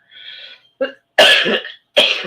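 Several harsh coughs in quick succession, close and loud, with a brief throat-clearing rasp before them and short silent gaps between bursts.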